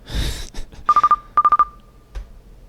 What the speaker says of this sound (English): I have to remember how to answer the phone.